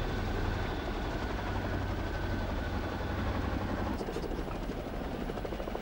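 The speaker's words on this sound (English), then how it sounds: "And now one of the Chinooks returning" A Boeing CH-47 Chinook helicopter returning during the 1981 RAAF Diamond Jubilee, heard as a loud, continuous rotor drone with a deep low throb that shifts partway through and stays prominent throughout.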